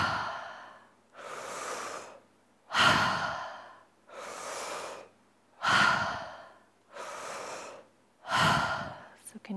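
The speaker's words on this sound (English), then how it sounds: "So big inhale through the mouth. Exhale through the mouth." Deep power breaths drawn in and blown out through the mouth during a beginner yoga session, five or six long, loud, airy breaths in an even rhythm, each followed by a short silence.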